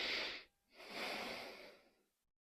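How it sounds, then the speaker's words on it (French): A slow, deep breath during a yin yoga session: a breathy airy inhale, a brief pause, then a longer audible exhale that fades out, close and quiet. "prenez une respiration profonde"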